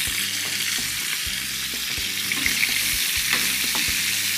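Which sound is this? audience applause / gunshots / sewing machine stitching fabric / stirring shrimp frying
stirring shrimp frying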